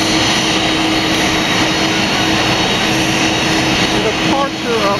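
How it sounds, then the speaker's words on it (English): Air Force One, a jet aircraft, departs Nashville, Tennessee with a steady loud roaring engine wash that holds throughout, far and continuous. "the departure of Air Force One"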